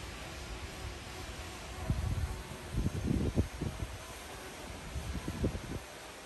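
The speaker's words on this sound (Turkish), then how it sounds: "muhtemelen mikrofonuma da rüzgarın vurduğunu hissediyorsunuz" Low, gusty rumbles of wind buffet the microphone in uneven bursts over a steady background hiss, with no voices.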